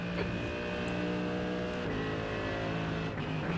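Race car engine held at full throttle around Canadian Tire Motorsport Park, a loud continuous close-up roar with steady harmonic drone, a brief lift and dip near the middle before pulling hard again.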